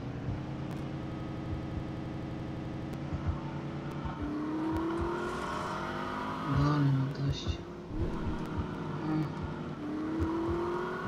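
A car in the video game The Saboteur drives with a steady engine drone and gear shifts, loud and continuous, while people talk over it.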